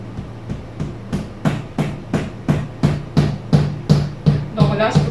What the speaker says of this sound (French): le but, c'est de le taper encore fort pour qu'il aille percer le dernier, le cakeboard